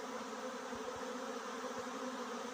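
A constant, even buzzing of a honeybee swarm clustering together, a dense droning hum with no speech.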